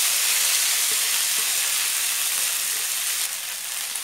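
Fresh coriander leaves drop into a hot mustard seed and sesame tempering, producing a loud, steady hiss that eases slightly near the end, with no talking.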